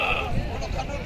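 A large Kachhar breed billy goat bleats close by at a Bakra Eid goat market, a loud rough cry with people talking over it.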